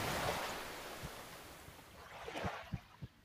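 Calm, clear sea lapping gently at a steady low wash, with a few soft splashes and knocks of water near the end; no one speaks.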